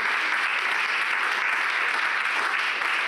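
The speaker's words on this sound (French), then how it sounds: "Sous les applaudissements de la salle" A room full of people applauding at an awards ceremony, dense and steady clapping that fills the whole stretch without pause.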